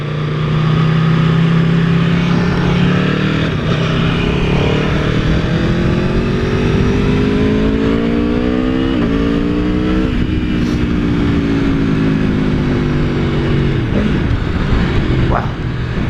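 An Aprilia Tuono V4 1100 Factory motorcycle accelerates hard through the gears with a downshifter. The loud engine note climbs and drops with each shift, continuous and close throughout, with a rider's voice heard over it.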